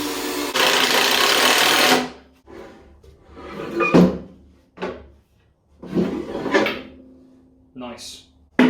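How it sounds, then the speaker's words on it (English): A power saw cuts plywood into shape in a blacksmithing shop, starting with one long loud cut and then several shorter bursts and pauses. "Now we've got to cut the ply into shape."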